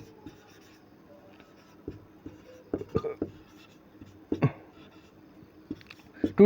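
Marker or chalk writing on a board in scattered short strokes and taps, faint to moderate, interleaved with a person speaking.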